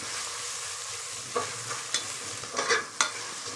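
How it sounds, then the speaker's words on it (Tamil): Onions and spices sautéing in hot oil for tomato rice, a steady soft sizzle with a few sharp stirring scrapes and clicks of a spoon against the pan, close and moderately loud with no voices. "இந்த எண்ணெயிலேயே போட்டு நல்லா இது எல்லாத்தையும் வதக்கணும்"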